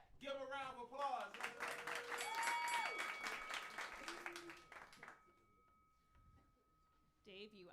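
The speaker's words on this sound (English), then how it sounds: "Give a round of applause." Audience applause at a comedy roast battle, a burst of clapping that swells for a few seconds then fades, with people talking over it and a voice continuing afterward.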